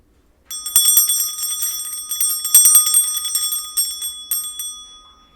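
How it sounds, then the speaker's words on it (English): Small bell rung repeatedly to clear energy before a tarot reading, giving a bright, rapid jingling run of clear high tones close by that keeps ringing for several seconds with no voices. "I'll start by clearing the energy with my bell."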